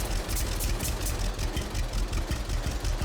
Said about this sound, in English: I think we'll take the tractor down there.